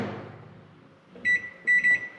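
A microwave oven reheating food finishes with a hum, then gives a short single beep and a double beep, loud and close, with nobody talking.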